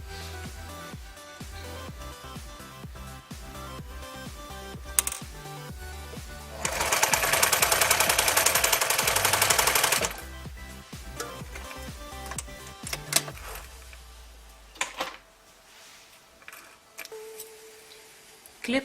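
A sewing machine stitching silk seams, running in a steady loud rapid burst of several seconds, with softer clicks and handling noises before and after.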